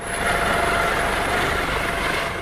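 Firefighting helicopters working a forest fire in Bolivia make a steady, loud rotor and engine drone that stays even and continuous throughout, with no voices.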